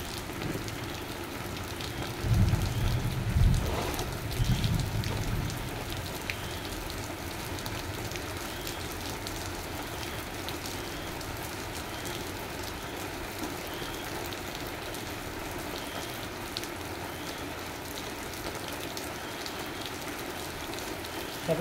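Heavy rain falls on a lychee orchard as a steady close hiss of drops on leaves and ground, with a brief louder rumbling stretch early on and then an even downpour to the end.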